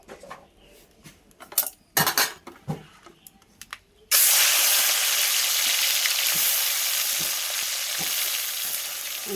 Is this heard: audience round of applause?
no